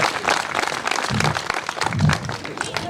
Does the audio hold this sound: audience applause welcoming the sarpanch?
yes